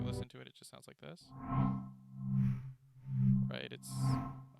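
Ambient noise texture from a music plugin, with swelling, hazy washes that rise and fall in slow waves like auto-panning, preceded by a burst of short stuttering electronic blips.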